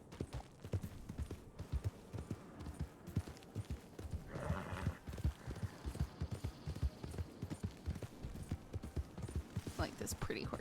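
Horse hooves clip-clop in a steady rhythm in the Western roleplay game RedM, close and continuous, with a brief whinny and a voice talking over them.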